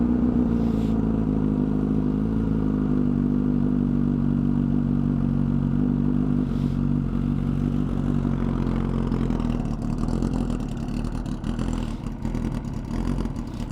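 A motorcycle with open headers and no tune warms up at idle, giving a loud, steady, rumbling engine drone throughout with a slight rise in revs near the end.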